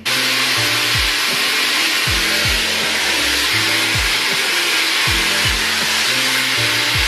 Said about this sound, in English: So I'm gonna go and blow dry it.